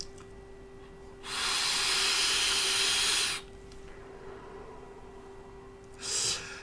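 A Vandy Vape Icon RDA with its airflow fully open gives a long, loud airy hiss on one draw, then a shorter second pull after a quiet gap.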